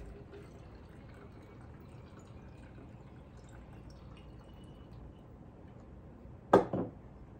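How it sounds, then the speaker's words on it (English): Liquid homemade natural insect repellent formula poured through a funnel into a container, heard as a brief splashing burst near the end after a quiet stretch. "I have a funnel, and we're going to fill this about halfway."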